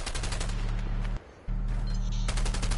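Rapid, continuous gunfire from the video game A Way Out rattles loudly in a dense automatic burst, breaking off for a split second before resuming at full intensity, with no talking over it.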